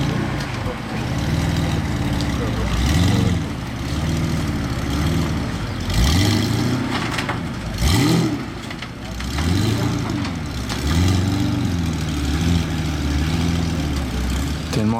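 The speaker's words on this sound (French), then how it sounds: "Tellement impressionnant une Zonda là," A Pagani Zonda supercar with four exhausts sits in mud, its engine idling and rising in repeated revs, a deep rumble swelling and falling in waves close by.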